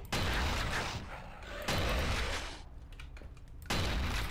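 Video-game gunfire from an escort-style shooter, loud sustained bursts of rapid shots in three waves with brief lulls between them, dense and close.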